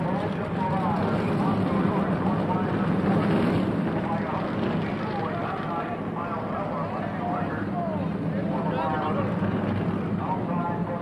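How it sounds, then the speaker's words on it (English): Forty NASCAR stock cars roar to life together at Darlington Raceway before the 1990 TranSouth 500, a steady, massed engine rumble under a commentator's voice. "40 cars and drivers, fire to life, getting set to go for 500 miles"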